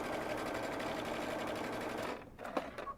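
A sewing machine stitches a kimono robe in a rapid, steady mechanical whir close by, then stops abruptly, leaving a few light clicks and handling knocks.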